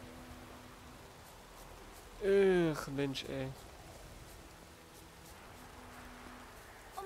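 Steady rainfall in the video game The Witcher 3, a soft continuous hiss running underneath, briefly masked by a man's short exclamation, then continuing alone.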